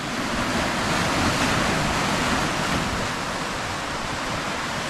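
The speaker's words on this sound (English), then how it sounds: "Got the waves rushing in." Ocean surf rushes continuously onto the shore near a fishing spot, a loud, steady broadband roar with no breaks.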